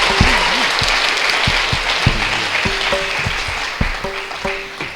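Audience applause after a classical Indian dance recital, a full, continuous round of clapping with rhythmic thumps and a low musical tone running beneath it.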